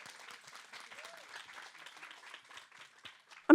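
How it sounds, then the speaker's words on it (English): Light applause from a small audience at a women's forum panel discussion, soft and continuous at a moderate distance, ending with a brief loud knock. "A big round of applause again for Bea,"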